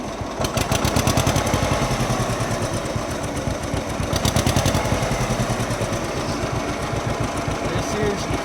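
John Deere 50 tractor engine running in neutral with the clutch disengaged, a loud close, rapid rhythmic chugging with a steady knocking pulse throughout, briefly surging louder at times, with someone talking over it.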